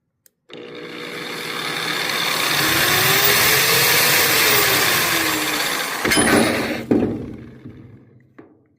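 Ford LCF ramp truck gear driven by a motor after a button press, a mechanical whine that starts abruptly, rises and falls in pitch over several seconds, then clunks and stops with a few knocks.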